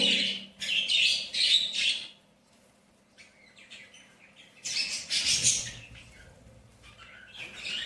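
Budgerigar chicks, one white and not yet fully feathered, squawk and chirp loudly in a cage alongside their parents, in bursts separated by a short quiet gap.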